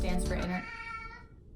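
A house cat meows loudly right at the start, a short drawn-out cry that trails off into quiet room tone.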